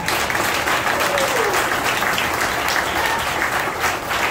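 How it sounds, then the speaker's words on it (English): Sustained applause from a concert audience at a high school jazz band performance, a dense, even wash of clapping that fills the whole stretch without a break. "give yourselves a round of applause."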